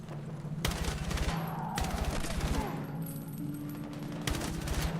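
Gunfire from the video game Battlefield 6 rattles in sustained bursts of loud, rapid shots layered over a dense battle din, with voices underneath.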